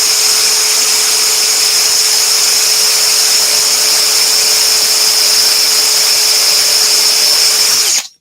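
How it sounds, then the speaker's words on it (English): A power drill with an 8mm lip and spur bit whines steadily and loudly for about eight seconds as it bores into wood, then cuts off abruptly. "This is an 8mm drill bit."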